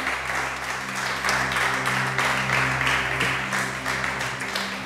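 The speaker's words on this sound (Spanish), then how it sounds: "Ahora sí, dele ese aplauso gigante a nuestro amado." A church congregation applauds steadily and loudly for several seconds, with a dense, even wash of clapping over a low sustained hum and no clear speech.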